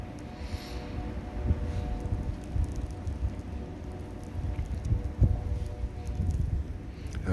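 Snowstorm wind blowing snow across open ground: a continuous, fairly faint rushing and buffeting hiss with irregular gusts and no talk.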